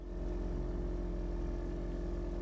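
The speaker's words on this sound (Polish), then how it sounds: "E, no co za motorówka, no." A motorboat engine in the fishing game Fishing Planet drones steadily and loudly, a continuous even hum with strong low harmonics and no change in pitch, with no talking over it.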